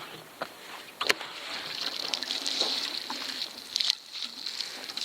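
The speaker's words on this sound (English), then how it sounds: "let's hit this with a bit of water" Water sprinkled over freshly sown seeds in garden mulch during a no-till sowing, a soft steady patter and hiss with a few louder splashes, close by and fairly quiet, with no talking.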